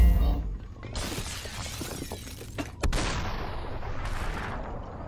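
Gunshots and glass shattering in the video game SUPERHOT, with a sharp crash near the start and a loud burst of shots and breaking in the middle, followed by a dense rattling tail.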